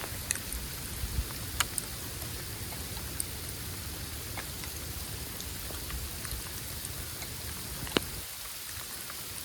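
Freezing rain falls steadily outdoors, a dense hiss of drops with scattered sharper ticks and taps on nearby surfaces, continuous and without voices.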